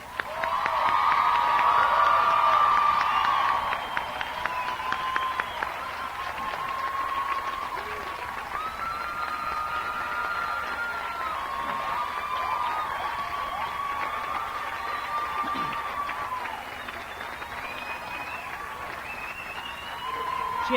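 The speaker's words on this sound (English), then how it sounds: "Please join me in applauding our graduates." Sustained applause from a commencement audience honoring graduates of Emmanuel College, loudest in the opening seconds and then steady, with a few cheers and voices mixed into the clapping.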